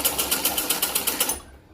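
A sewing machine stitches a blouse with a loud, close, rhythmic chatter of about eight quick needle strokes. It then winds down and stops, with no talking.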